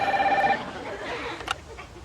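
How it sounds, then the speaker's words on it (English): A telephone rings in a Seinfeld scene, a short bright electronic trill heard briefly before a quieter stretch with faint background sound. "the Seinfelds are packing their suitcase to head back to Florida when the phone rings"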